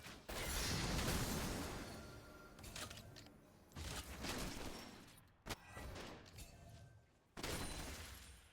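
A League of Legends turret firing amid dense, loud game-fight effects, with sustained crashing bursts and sharp impacts broken by brief gaps.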